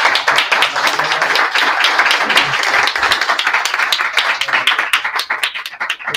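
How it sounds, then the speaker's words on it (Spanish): Clapping from the audience at a round-table on civil rights and anti-racism, loud close individual claps that blend into steady applause and grow sparse and uneven toward the end. "Quiero nada más ofrecer un aplauso"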